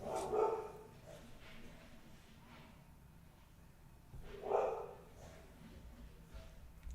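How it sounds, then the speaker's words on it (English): A neighbor's dog barks in two short bursts several seconds apart, fairly faint and distant against a quiet indoor background. "That's the neighbor's dog."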